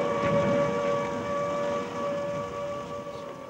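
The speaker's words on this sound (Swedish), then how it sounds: "The sirens, the panic rush, the fracas of the bombs." An air raid siren wails steadily during a wartime bombing, a continuous sustained tone over a dense, rumbling background that stays loud throughout.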